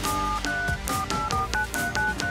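A telephone keypad sends a rapid series of distinct dialing tones, each short and evenly spaced, loud and clear with no voices.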